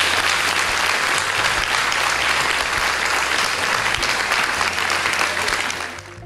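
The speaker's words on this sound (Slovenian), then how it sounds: "En dober in velik aplavz za sponzore." Sustained, dense applause from a congress audience in a hall at an accountancy services congress in Laško, steady and loud throughout before tapering slightly at the very end.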